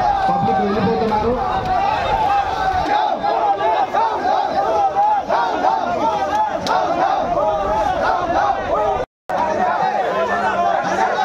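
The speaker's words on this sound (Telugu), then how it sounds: "లాఠీ చార్జ్తో గుంపులు చెలరేస్తున్నారు, పబ్లిక్ వెళ్ళిపోతున్నారు." A large street crowd shouts and chatters in a loud, continuous roar, with running and commotion as people scatter during a police lathi charge after election violence in Srikalahasti.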